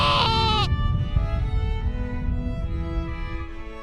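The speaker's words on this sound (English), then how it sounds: "And there's just sheep chilling." A single sheep bleats loudly and close at the start in the Black Mountains, then fades into quiet outdoor ambience with faint distant bleats.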